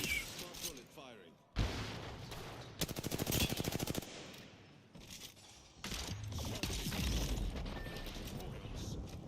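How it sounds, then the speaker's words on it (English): Ballistic's smart bullets firing in the Apex Legends video game: sharp, rapid bursts of loud shots broken up by short gaps, with mechanical clicks between the bursts and game noise around them. "Smart bullet firing."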